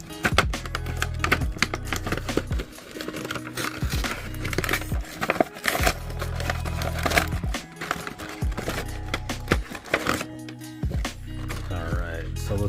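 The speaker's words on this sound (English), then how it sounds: "since the box is already messed up, I'm just going to rip it to shreds" Cardboard packaging of a Mattel WWE Elite Series 91 Rob Van Dam wrestling action figure is ripped and torn apart in repeated loud, crinkly bursts, close by, with a voice talking intermittently.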